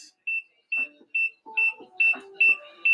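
A sharp electronic beep repeats at a steady pace, about seven short tones, with faint mumbling voices under the later beeps.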